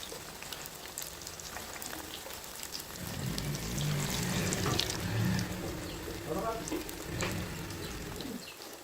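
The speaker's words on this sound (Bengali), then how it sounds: "এই গরম তেলের মধ্যে একটা একটা করে মাছ ছেড়ে দিতে হবে" Fish slides piece by piece into hot oil for deep frying, making a steady close rain-like sizzle that swells and thickens partway through, with a few soft clinks and scattered pops over it.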